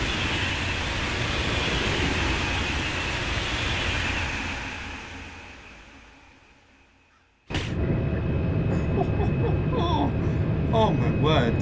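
TGV Atlantique high-speed train running on the LGV Méditerranée in Train Sim World 4: a steady loud rushing roar that fades away, then cuts back in abruptly with a sharp bang and continues strongly.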